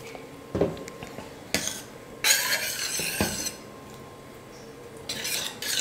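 A spoon stirs salt into a mango and lentil kadayal in a metal pot, with a few sharp clanks and scrapes against the vessel spaced across a quiet background.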